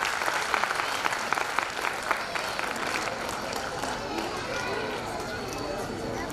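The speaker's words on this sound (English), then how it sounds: "Parents, please give them a big round of applause." Steady applause from parents at a school annual gathering, dense clapping throughout with a few sharper claps standing out, lively and continuous.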